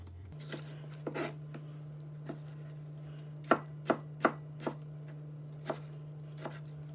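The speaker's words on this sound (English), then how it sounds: "just coarsely chopping them." A knife coarsely chops ripe tomatoes on a board in irregular single strikes, several sharp and close, over a steady low hum.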